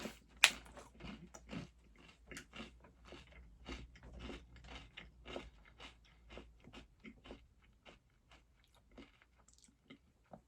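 Crisps being eaten alongside a pint of beer: a run of crunchy bites and chewing, close to the microphone, irregular and steady, with a sharp crackle near the start of a bag being handled.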